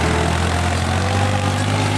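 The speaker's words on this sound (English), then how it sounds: "So this is the tractor." A tractor digging farmland runs with a steady, loud low-pitched rumble and drone, close and continuous and with no break, while no one speaks.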